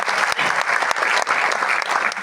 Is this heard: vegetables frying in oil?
no